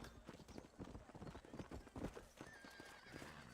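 Horse hooves clop in rapid rhythm in Red Dead Redemption, with a neigh breaking through midway, faint and steady under game ambience.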